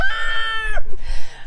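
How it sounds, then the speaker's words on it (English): A rooster crows loudly and close by at a farm chicken coop, one strained, harmonic call lasting under a second, followed by quieter farmyard noise. "I have my rooster and my goats making all kinds of noise."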